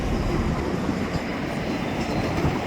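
A CP freight train switching on an outer track by the Queensboro Bridge gives a loud, continuous rumble of railcars with rolling wheel clatter, close by.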